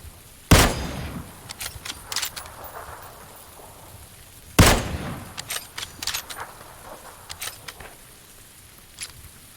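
Two heavy, booming gunshots several seconds apart, each followed by scattered sharp cracks, over a constant hiss like falling rain, in a video game.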